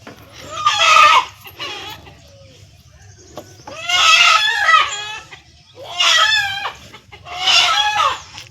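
Chickens and a rooster on a farm during a Pongal celebration: loud, close bursts of clucking and crowing that recur in four separate calls with quieter gaps between.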